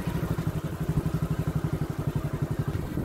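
Motorcycle engine running steadily during a ride past a railway golf ground in Kapurthala, Punjab, with a close, loud, regular pulsing thump throughout and no talk.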